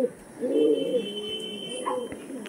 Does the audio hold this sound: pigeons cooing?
yes